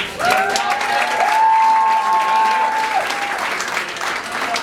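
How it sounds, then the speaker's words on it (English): A crowd at a Cycle for Survival charity cycling event in Chicago applauds steadily and loudly throughout, with a voice speaking over the clapping. "give Liz a huge hand of applause here"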